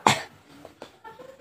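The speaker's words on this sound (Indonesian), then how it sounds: "Coba Ibu batukkan." A woman patient coughs during chest physiotherapy and effective coughing practice: one sharp close cough, then a few fainter breathy follow-ups in a quiet room.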